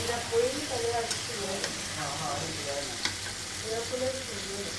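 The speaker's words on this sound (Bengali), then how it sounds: "সুন্দর করে পেঁয়াজ ভেজে দিয়ে দিলাম।" Onions frying in a pan at home, a steady sizzle with stirring scrapes and light clinks that carry on throughout, loud and close, with no voices.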